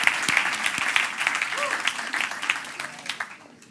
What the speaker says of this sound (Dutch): En die krijgen ook een applaus.